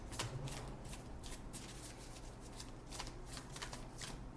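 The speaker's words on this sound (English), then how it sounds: "I'm going to pull a couple of cards from this," Tarot cards are shuffled by hand in a continuous soft riffling and sliding patter, close up and fairly quiet, with no voice over it.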